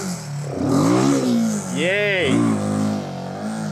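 Royal Enfield Himalayan 450 motorcycle revving while being ridden out of rough off-road ground, engine pitch rising and falling in short bursts, with people talking and shouting over it.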